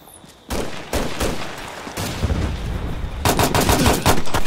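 Video game gunfire rattles in close, loud bursts of rapid shots, starting after a brief quiet moment and growing denser toward the end, with no talk.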